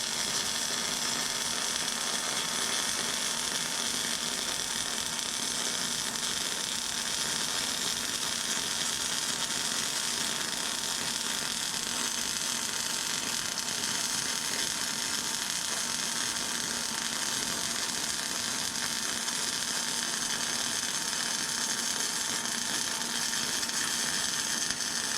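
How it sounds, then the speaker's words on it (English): A long weld seam being laid on a car hauler at normal speed, giving a steady, continuous crackling buzz that holds evenly for the whole stretch with no talking. "I'm going to shut up and let you enjoy the second half of this weld here"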